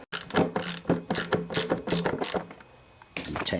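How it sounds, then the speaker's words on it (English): A 3/8 socket ratchet loosening bolts on a 1974 Sears Craftsman Rotospader rototiller with a Tecumseh engine, rapid clicking bursts repeated in quick succession close by, then a brief pause before another burst. "Got my 3/8 socket. Take these little bad boys off."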